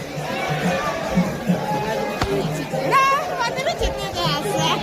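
Dense crowd of temple-goers queueing at Jejuri temple, a steady babble of many voices with children's calls and chatter rising and falling, close and continuous throughout.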